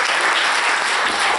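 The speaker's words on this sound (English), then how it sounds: "give a round of applause for them" Audience applause fills a church chapel during a talent show, a dense steady wash of clapping held close and loud with no voices.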